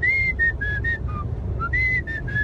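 A person in a car imitates a whistle, giving a run of short, clear, high whistled blasts in two bursts, loud and close, with no talking over them.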